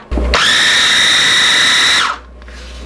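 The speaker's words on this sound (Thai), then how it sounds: "ใช้ตัวปั่นตัวเล็กนี่นะคะ" A small electric blender whirs at a steady high pitch for about two seconds while grinding steamed, dried mung beans for a savoury Thai dessert filling, then winds down and stops.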